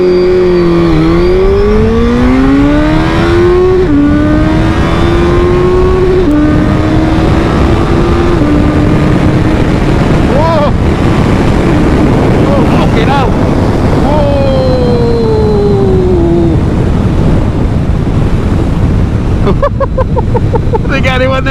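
Turbocharged and stock Suzuki Hayabusa motorcycles in a drag race, loud engines screaming up through the gears with rising whines and sharp shift breaks, heavy wind buffeting over the microphone throughout.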